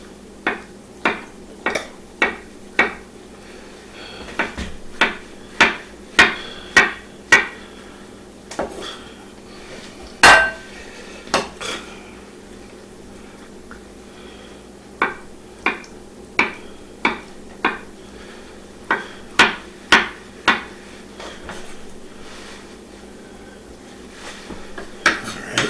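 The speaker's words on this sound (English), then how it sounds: "I'm going to start by chopping up a couple of avocado halves" A knife chops avocado halves on a cutting board, sharp wooden knocks falling in quick clustered bursts with short pauses between, close and distinct in a quiet kitchen.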